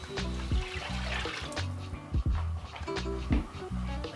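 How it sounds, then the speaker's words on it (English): Vegetable stock poured into a pot of pumpkin soup, a steady close liquid splashing and gurgling with a few sharper knocks and clunks of the pot throughout, no talking. "Now it's time for me to add the stock."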